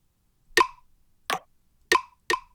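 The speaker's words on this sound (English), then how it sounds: "And a couple more percussion hits." Four short, dry percussive hits with a hollow, plopping tone, spaced unevenly with silence between them, clear and close.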